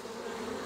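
Honey bees drone steadily inside a horizontal hive, a close, continuous buzzing hum with no talk.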